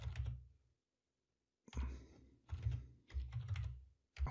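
Close, quiet typing on a computer keyboard comes in short bursts of rapid clicks separated by a silent pause.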